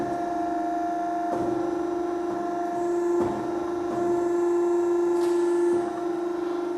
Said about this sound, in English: If you step on the pedal, the machine is moving.